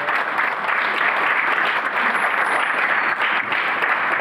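An audience applauds steadily and loudly to welcome theologian Kevin Vanhoozer at a lecture, a dense, even clapping that lasts several seconds with no voices over it.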